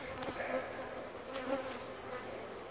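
Honeybees buzzing around an open hive while a cell starter is being set up, a steady, close, wavering drone of many wings with a few louder passes near the microphone.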